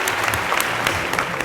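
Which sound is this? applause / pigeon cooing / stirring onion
applause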